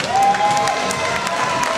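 Audience at a Dutch kickboxing fight event applauds and cheers, a steady wash of clapping and crowd noise with a faint whistle-like tone early on, fairly loud and close.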